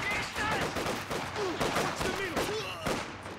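Rifle and machine-gun fire crackle in the Company of Heroes 2 World War II strategy game, bursts of overlapping shots in quick succession, mixed with battlefield effects.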